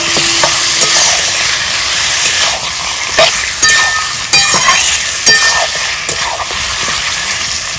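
Mutton pieces fry with browned onions in a pan, giving a loud, steady close sizzle with repeated clattering stirs and spoon knocks every second or so.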